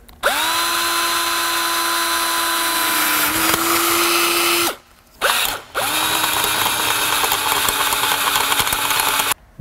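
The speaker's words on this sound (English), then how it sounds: "I'm going to start with a smaller size before I go up to the larger size, just so that it goes a bit smoother." A power drill whines steadily as it bores out a pilot hole with a larger bit during brake line work, its pitch dipping once before two brief stops, then spinning up again loud and close.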